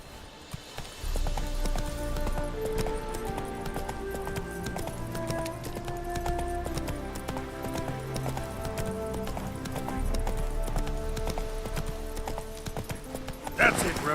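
Roach the horse clip-clops steadily on hooves in The Witcher 3, a rhythmic trot over background game music that runs throughout.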